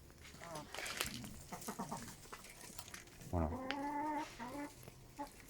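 A rooster's harmonic crowing call rises out of nearby clucking hens, with someone talking in French over the flock.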